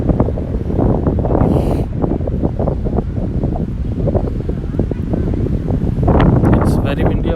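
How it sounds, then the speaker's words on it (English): Strong wind buffets the microphone in heavy, continuous gusts at an outdoor cricket match, with muffled voices talking underneath. "It's very windy out here."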